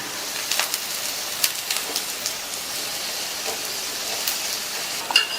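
An onion roti fries in oil on a hot pan, giving a steady, close crackling sizzle broken by small pops and spits. Nobody speaks over it.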